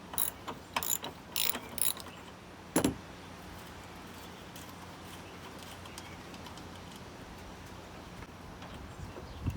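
Ratcheting clicks as a 1 1/2 inch nut is loosened from the drive pulley of an Ariens lawnmower, a few sharp bursts of rapid clicking near the start and one more near three seconds, then only a faint steady background.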